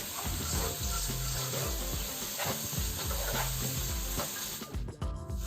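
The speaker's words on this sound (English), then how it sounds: "I'm going to fry all this up" Lamb and spinach curry ingredients frying in a wok, a steady loud sizzle with stirring scrapes and clatter running throughout, no talk.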